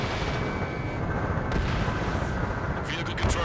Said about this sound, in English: Strider 3 launching missile.